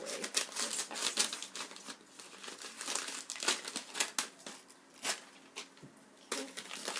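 Material is crumpled and wrapped around a sculpting armature at close range, giving soft, irregular crinkling and crackling rustles in short bursts, fairly quiet, with no talking.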